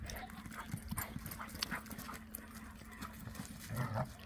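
A sheepadoodle on a hiking trail: faint, quick rhythmic pattering and light jingling taps run continuously at a low level, with soft rustling underneath.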